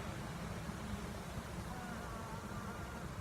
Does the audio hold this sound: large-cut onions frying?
no